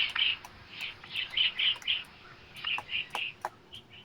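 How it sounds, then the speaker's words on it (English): Pileated woodpeckers call in a series of short, high, chirping notes, repeated in quick irregular runs at moderate distance, fairly faint over a quiet background. "A pair of pileated woodpeckers prefers to stay together on its territory all year."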